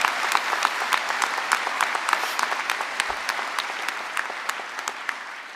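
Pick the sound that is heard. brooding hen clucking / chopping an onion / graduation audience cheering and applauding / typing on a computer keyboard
graduation audience cheering and applauding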